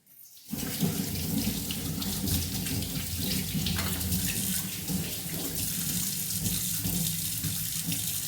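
A sweet potato is washed under running tap water, a steady close rush and splatter from the faucet that starts abruptly and keeps going without pause.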